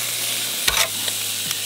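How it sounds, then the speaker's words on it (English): Food sizzles steadily on a hot Ziggy barbecue during extreme heat, with a constant loud frying hiss and a few metallic clinks as it is stirred or turned, and no talk. "Listen to that sizzle."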